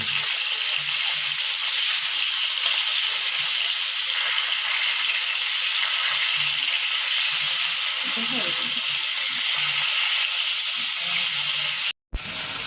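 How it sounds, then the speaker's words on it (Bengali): Chang fish (snakehead) frying in hot oil in a pan, a steady, loud broadband sizzle and hiss running continuously throughout with faint low voice murmurs beneath and a brief cut near the end. "মাছ ভাজা হয়ে গেছে"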